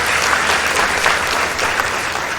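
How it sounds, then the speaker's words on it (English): An audience applauds at a secondary school debate, a loud, dense, continuous wash of clapping from many hands with a faint crowd murmur beneath. "Let's give them a round of applause."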